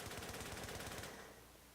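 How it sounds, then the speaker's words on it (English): M60 light machine gun firing in The Division video game: a rapid, loud, continuous burst of automatic fire that stops abruptly and leaves a short fading echo. "Now let's move on to the M60."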